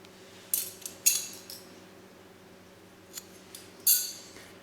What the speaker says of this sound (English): I'll chain 1, then I'll cut this yarn.